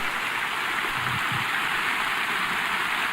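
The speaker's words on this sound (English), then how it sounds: "Now it's pouring rain." Pouring rain on Chico's cassette tape in Metal Gear Solid V, a steady dense hiss of downpour that continues unbroken at an even, fairly loud level with no voices.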